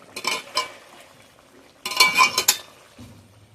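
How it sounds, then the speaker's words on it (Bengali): Metal spoon scraping and clinking against a pan while river fish and potato curry is poured out, in two short bursts of clatter with quiet in between. "তরকারিটা আমি এবার ঢেলে নেবো।"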